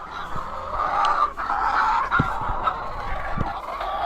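Chickens clucking and murmuring close by in a coop during egg collection, a continuous chorus of throaty fowl calls with a few sharp knocks and handling noises.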